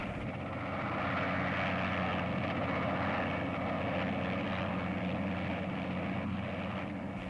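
Harrier jump-jet attack aircraft of an RAF squadron operating from the carrier Ark Royal, its engine giving a loud, continuous broadband roar that holds steady for several seconds with no talk.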